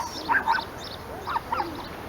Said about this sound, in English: maybe tune into the birds